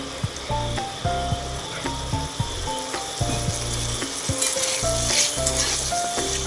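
Turmeric powder being stirred into semolina frying in a pan for spicy suji, a loud steady sizzle with repeated scraping and clacking strokes of the spoon against the pan.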